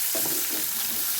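Chopped onions hitting hot oil with black cumin seeds and three slit green chilies, a steady broadband sizzle with light stirring scrapes close by, no talk.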